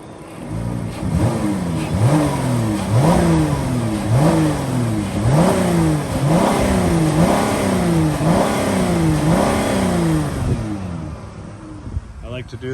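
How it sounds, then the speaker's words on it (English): A 2012 Dodge Grand Caravan SXT engine is revved repeatedly from idle to higher RPM, about nine or ten rising and falling swells in steady rhythm, loud and close with no talk over it. "I'm going to go in here so I can push the accelerator pedal and rev it up so you can hear it at a little higher RPM"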